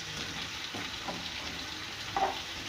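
Sliced potatoes sizzling in a pan with crushed chillies, turmeric and salt, a steady frying hiss with a few soft stirring scrapes and a brief louder clink near the end.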